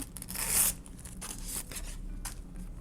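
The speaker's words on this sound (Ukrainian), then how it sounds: "Такий пакетик з Ladybug. Вже давно я хотіла його відкрити" A paper surprise packet with a Ladybug theme being torn open by hand, giving close crinkly rips and scrapes in short bursts over nearly three seconds, with no talking.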